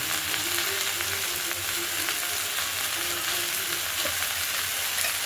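Chopped onion going into a pan of frying vegetables (potato, onion stalks, cauliflower, flat beans) for a Bengali chorchori, giving a steady, loud, close sizzle with light stirring throughout and no talking.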